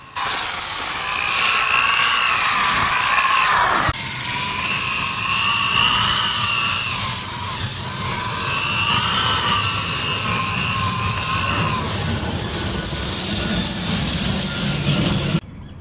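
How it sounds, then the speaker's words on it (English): A rotary sander with 120-grit sanding discs whirs steadily with a high, hissing grind that rises and falls as it moves across a surface, pausing briefly partway through. "I'm using our rotary sander with 120 grit sanding discs"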